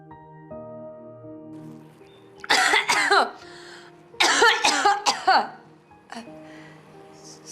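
Two bursts of harsh coughing, a few coughs each, sound close by over a quiet hum, followed by a short throat sound.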